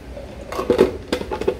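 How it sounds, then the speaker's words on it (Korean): Salted cucumber slices go into a water-squeezing spinner, making a few close clattering knocks and plastic rattles in two short bursts. "10분간 절인 오이를 짤순이에 넣어주세요."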